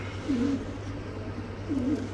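Two soft, low pigeon coos a second or so apart over a steady low hum, with no voices.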